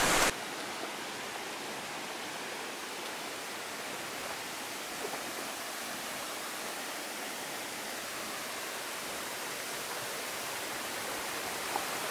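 A waterfall along the Mt Baldy hike, a steady broad rushing roar of falling water that fills the scene evenly and continuously, with no voices.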